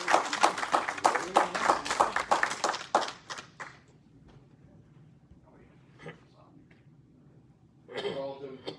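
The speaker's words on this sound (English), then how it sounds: "please give them a warm round of applause" Audience at a Masonic lodge installation ceremony claps for newly seated officers, a few seconds of sharp, distinct handclaps from a modest crowd that stop abruptly, then a quiet room with small noises and a voice speaking at the end.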